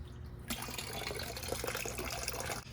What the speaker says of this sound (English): So we need to slowly start adding some water.